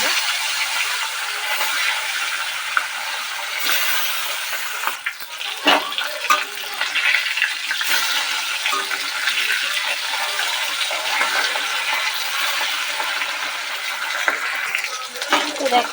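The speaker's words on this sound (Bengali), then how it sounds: "তো আমরা বাকি মাছগুলো ভেজে নেব।" Hilsa fish frying in hot oil, a steady bright sizzle and crackle with small pops, close and continuous, while a person talks over it.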